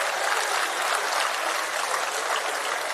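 Sustained crowd applause fills a prize-giving ceremony hall in Chennai, a dense steady wash of many hands clapping at even loudness for the full stretch, with no voices over it.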